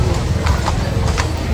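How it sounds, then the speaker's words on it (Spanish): Horses clip-clopping on a street in Balatonfüred, Hungary, with a quick, irregular run of hoof strikes close by over steady outdoor background noise. "Qué bellos los caballos."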